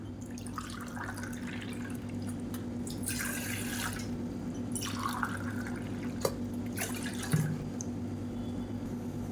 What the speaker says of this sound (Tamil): இதில் வந்து ஒரு இரநூறு எம்எல் அளவுக்கு தண்ணி சேர்த்துக்கலாம்